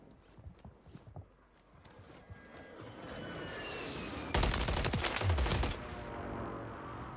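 MCW rifle fire in Call of Duty on Rebirth Island: a fast, dense burst lasting just over a second stands out mid-clip above the quieter background game noise.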